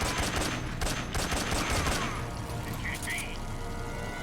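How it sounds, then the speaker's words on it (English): Gunfire bursts against a tank's tread during a boss fight in Metal Gear Solid 3: Snake Eater HD Edition, with rapid loud volleys crackling in the first two seconds, then lighter game effects under steady battle noise. "Shoot the tread again."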